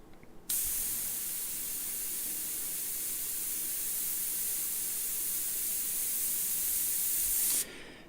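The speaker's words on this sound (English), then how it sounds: "my airbrush is spitting a bit" Airbrush spraying paint in a continuous close hiss lasting several seconds, starting and stopping abruptly, with slight irregular sputtering from the nozzle spitting.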